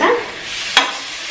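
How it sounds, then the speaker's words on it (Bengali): Chanda fish masala with onion, garlic and tomato cooks in a pan with a brief sizzle and one sharp stirring scrape, short and close, with no voices. "আজকে আমি করছি পেঁয়াজ রসুন দিয়ে টমেটো দিয়ে একদম সুন্দর করে করার চেষ্টা করছি, ঢেকে ঢেকে কষিয়ে নিচ্ছি"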